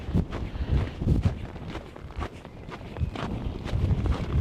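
Cold, strong wind gusting across an Antarctic colony site rumbles steadily against the microphone, with uneven buffeting surges and soft crunching steps underneath, loud and close throughout with no voices.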